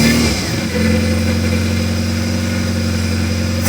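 Suzuki Carry engine fitted with a secondhand carburetor, idling steadily and close by with a low droning hum and slight unevenness, a brief dip near the start, no voices.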